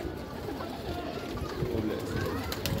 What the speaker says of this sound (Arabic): هذا هو الحمام اهو، كلهم سايبين في قلب بعضهم